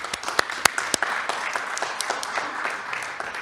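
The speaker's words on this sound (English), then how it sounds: "A round of applause for her too, as new council" An audience at a Lowell city council meeting gives a short burst of applause, with scattered claps over a soft wash of clapping and faint voices in the room.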